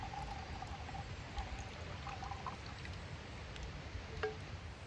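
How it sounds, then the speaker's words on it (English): Tea is poured into a cup outdoors in a Scottish woodland, a faint, quiet trickle against soft ambient background noise. "pour myself another tea."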